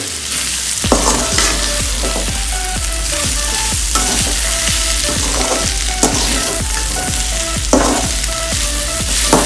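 Okra and shredded cabbage fry in a pan over a low flame, giving a steady loud sizzle broken by a regular series of stirring scrapes and clicks, about one every half second, with no talking.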